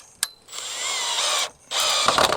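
A power driver sinks a Tek screw into a board on a Quonset greenhouse, making two sustained whirring bursts with a short pause between and a sharp click at the start.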